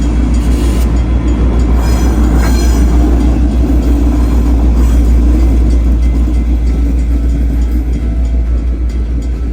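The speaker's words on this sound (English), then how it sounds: "there's a train coming through bringing well, 10 containers to ship out wherever they're going." A freight train carrying about ten containers rolls past the Fremantle docks at Victoria Quay, a loud, close, continuous rumble with steady wheel clatter and no voices throughout.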